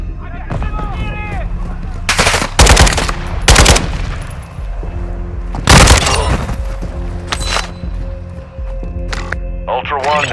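Gunfire in the shooter game Call of Duty DMZ: several loud separate bursts and single booming shots at irregular intervals, mixed with a constant low rumble and radio-style voices speaking between the shots.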